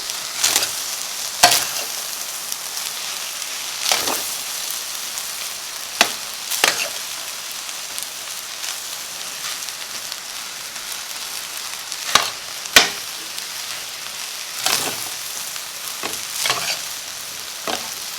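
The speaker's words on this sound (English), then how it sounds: "You want to hear that sound at the bottom of the pot, that frying, crisping sound." Continuous crackling frying sound of rice crisping at the bottom of a pot for chicken fried rice, broken by irregular scraping clacks of a utensil stirring, turning and breaking up the food.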